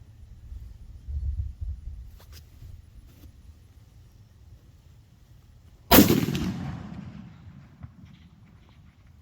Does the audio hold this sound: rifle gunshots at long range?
yes